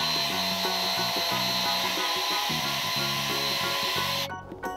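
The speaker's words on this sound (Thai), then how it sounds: "เราก็จะใช้ตัวสว่านที่ดูพอๆกับตัวหลอดตัวเนี้ยเจาะเข้าไปตรงกลาง" An electric drill boring through the centre of two plastic bottle caps for a homemade Heron's fountain, a loud continuous whine with the motor pitch dipping under load, then cutting off near the end.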